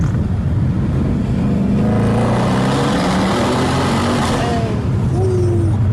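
A supercharged car engine revs hard in second gear inside a tunnel, its rising whine echoing loudly, while people talk over it.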